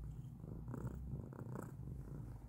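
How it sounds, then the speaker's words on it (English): A house cat purrs close up, resting in a pillow-lined spot, with a steady, soft rhythmic rumble running throughout, faint and alone with no talk. "Okay, you're purring."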